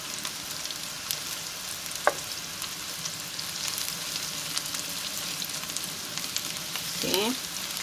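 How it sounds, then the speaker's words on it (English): Meatballs searing in a hot pan, a steady close sizzle with a few light clicks and scrapes of the pan as they are turned. "I'm gonna go ahead and sear that first part for about a good minute and a half"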